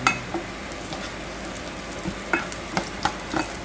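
Garlic added to ginger and onion in a hot pan fries with a low, steady sizzle, broken by a few sharp clicks and scrapes of stirring, close and fairly quiet.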